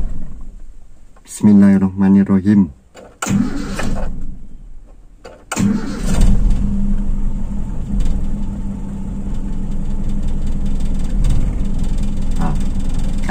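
A hot car engine cranking on the starter, preceded by a voice, with a short grinding crank before the engine catches and settles into a steady idle that continues to the end.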